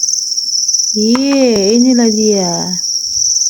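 Breeding honey crickets keep up a steady, shrill, unbroken high trill throughout, while someone briefly speaks over it in the middle.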